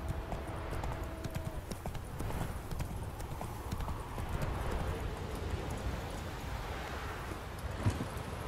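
Roach the horse's hooves clip-clop steadily and quickly at a trot in The Witcher 3, with a constant soft ambient bed beneath the close hoofbeats.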